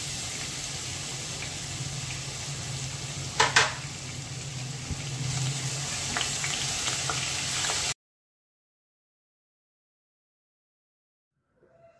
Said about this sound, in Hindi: इसे हम ऑयल में अच्छे से भून लेंगे